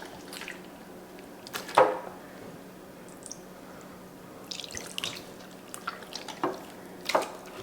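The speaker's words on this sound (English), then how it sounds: "Using my hand just to pour the juice over and move it around." Orange marinade juice poured and spread by hand over raw chicken pieces, giving a few soft, scattered drips and wet squishes against a quiet kitchen background.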